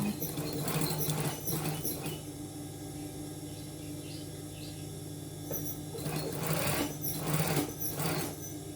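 A sewing machine runs steadily, stitching along a garment edge in a home dressmaking setting, with its motor hum continuous throughout and busier bursts of needle clatter at the start and again near the end, close and moderately loud.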